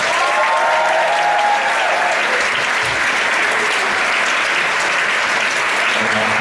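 Loud, dense applause from a Science Slam audience, many hands clapping in a continuous roar that stays even throughout, with a brief whistle-like tone early on.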